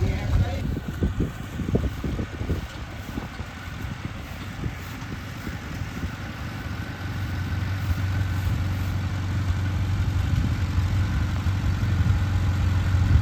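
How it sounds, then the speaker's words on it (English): A Farmall 130 tractor engine runs steadily on a hay field, a mid-low hum that grows a little louder toward the end, with a person talking over it early on. "Wesley's gonna be using his Farmall 130 to pull our the New Holland 256 pull bar hay rake"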